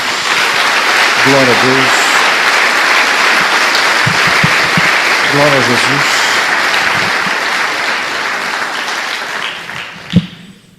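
A church congregation breaks into sustained applause that fills the room steadily for several seconds before fading, while a preacher's voice calls out over the clapping.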